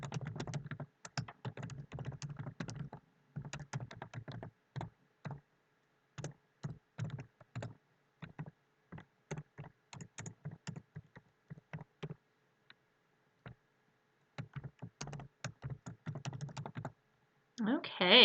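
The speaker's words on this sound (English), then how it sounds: "So be sure to type in all the numbers with no spaces." Rapid bursts of typing on a computer keyboard, clicking in quick clustered runs separated by short pauses, close and fairly clear throughout.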